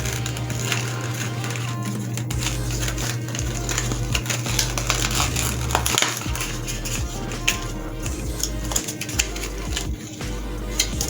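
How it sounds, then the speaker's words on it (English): False eyelash packaging is opened up close: continuous crinkling, tapping and plastic rustling with sharp little clicks, over a steady low background hum. "While they're drying, I'm gonna open my lashes."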